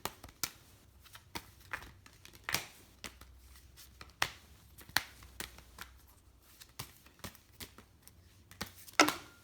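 Angel oracle cards being shuffled by hand: a steady run of crisp papery riffles and flicks, close and fairly quiet, with a louder burst near the end and no talking.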